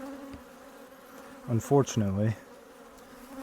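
Honey bees from a backyard hive drone in a steady, close buzz throughout a Father's Day inspection, while someone briefly speaks over the swarm midway.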